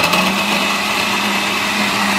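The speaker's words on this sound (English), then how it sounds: "I'ma pour it and then cover this and turn the blender on." Blender running while making a smoothie, a loud, steady motor whine held without a break, close up with no voices.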